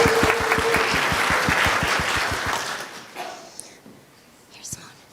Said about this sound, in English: let's give a little beginning round of applause to get us started